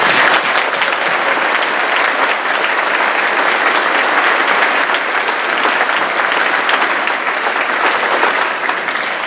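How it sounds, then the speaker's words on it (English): An audience at a Veterans Day program applauds the veterans in a sustained, dense round of clapping that holds steady and loud throughout, with faint crowd murmur beneath. "So a round of applause one more time for them."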